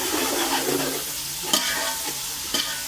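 Onion, garlic and ginger masala frying and being stirred in a pan over a high flame for pulao, a steady close sizzle with occasional sharp scrape knocks of the spoon.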